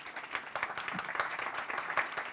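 An audience applauds at a conference on urban agriculture, steady dense clapping from a crowd that carries on evenly throughout at moderate loudness.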